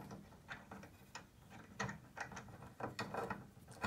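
A Slug Buster knockout punch kit is cranked through sheet metal with a ratchet, giving faint, close, irregular clicking and grinding strokes that grow slightly louder toward the end.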